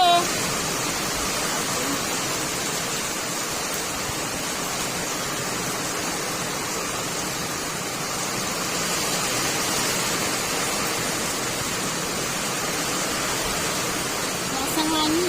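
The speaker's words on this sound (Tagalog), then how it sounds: "Ang lakas ng hangin at ulan." A storm's strong wind and heavy rain make a constant, full roar of rushing noise outside a house, steady and loud for the whole stretch with only slight swells.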